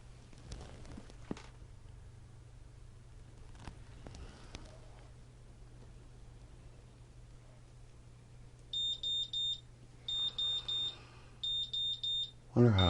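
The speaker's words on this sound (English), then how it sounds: "Get it up over 200 so we can hear that alarm again." A GZAIR SA104 carbon monoxide detector sounds its alarm during a test, three short bursts of rapid high beeps near the end after a quiet stretch with faint handling noise and a low steady hum.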